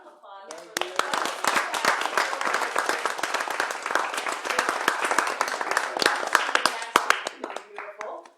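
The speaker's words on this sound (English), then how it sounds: "Round of applause." An event audience breaks into loud, close applause, dense sharp hand claps building quickly and sustained for about eight seconds before tapering, with voices murmuring underneath.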